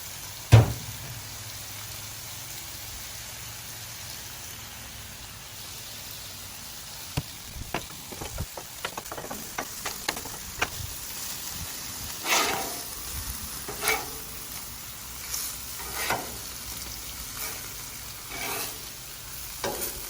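Chicken and pork pieces with peas sizzle steadily in a hot pan for fried rice, with a utensil scraping and stirring in sharp clacks now and then; no talking.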